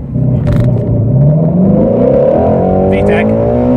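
A Ford Shelby GT350 accelerating hard during gear testing, loud engine revving with a rising pitch, a gear change and climbing again close up, with a driver's voice over it.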